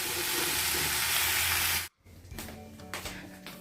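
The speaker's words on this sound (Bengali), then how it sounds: "টমেটোগুলোকে দিয়ে দিয়েছি" Tomatoes fry in a pan with a close, bright sizzling hiss for nearly two seconds, then it cuts abruptly to a quieter scene of soft clattering and knocks.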